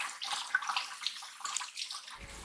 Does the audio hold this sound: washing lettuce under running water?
yes